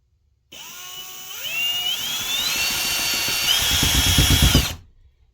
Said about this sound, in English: So we chucked this thing up in the drill here.